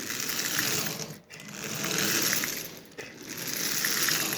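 A Marx 666 toy smoker locomotive runs with a steady buzzing, whirring motor hum that briefly dips twice as the sticking E-unit cycles, heard close and alone.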